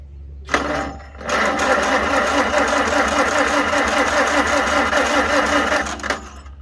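A 1943 Farmall H tractor engine runs steadily after starting, a loud close rough idle with rapid firing pulses and a low throbbing hum throughout.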